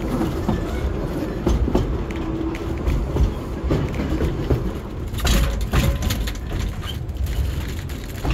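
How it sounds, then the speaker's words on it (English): A train on the Sittingbourne & Kemsley Light Railway rolls along the rails with a steady rumble and recurring clickety-clack from the wheels, heard from on board in the brake van. "So we're just waiting for the train to depart."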